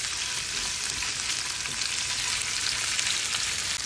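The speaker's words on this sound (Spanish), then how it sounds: "Le voy a agregar aceite. Le agregamos las salchichas. Vamos a esperar a que se doren un poquito." Sausages sizzle in hot oil in a pan on the stove, a steady, even crackle of frying that runs close and constant from start to finish with no voices.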